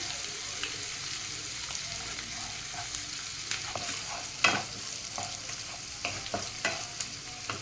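Kashmiri chilli powder and sugar stirred in a pan over low heat, a steady close sizzle with scraping spoon strokes and occasional louder clicks, no voices.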